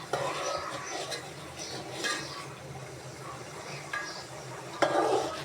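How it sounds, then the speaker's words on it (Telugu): Tomatoes fry in a pan while being stirred, giving a continuous soft sizzle broken by scraping utensil strokes and a few sharper clinks, close and fairly quiet with no talk. "టమాటా బాగా ఫ్రై అవ్వాలి"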